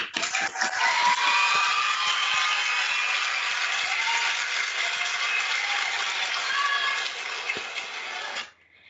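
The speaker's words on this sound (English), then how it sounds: "I would like to invite all of you to join me for a round of applause for the winning teams" At an online award ceremony for an inter-college econometrics competition, a dense, steady round of applause carries on for about eight seconds before cutting off sharply.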